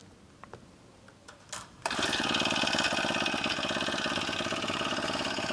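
Small motor on a powered BikeE2 recumbent bike mounted on a test stand starts after a few faint clicks and settles into a steady, close, buzzing idle.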